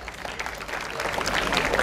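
Audience applause at a career counseling session, a brief patter of clapping from a crowd that grows slightly louder toward the end.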